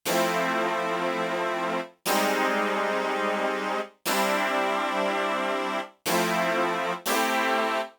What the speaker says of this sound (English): I'm going to grab a pad sound